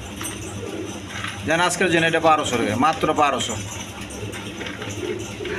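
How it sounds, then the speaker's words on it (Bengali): A pair of colored Rajgolla pigeons coo softly in the background while someone talks steadily nearby, their low murmuring calls mostly beneath his voice. "এইখানে আরেক পেয়ার গোল্লা কবুতর আছে, কালারিং রাজগোল্লা।"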